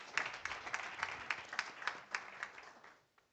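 Audience at a community initiative event giving a round of applause, a rhythmic run of claps at a distance, fairly faint, fading out after about three seconds.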